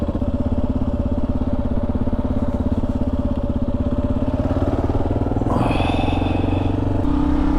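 A group of motorcycles rumbles steadily nearby, a continuous throbbing engine drone that swells as more bikes pass and a higher whine joins near the end.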